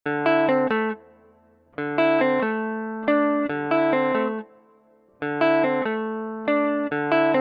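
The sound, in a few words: guitar sample with reverb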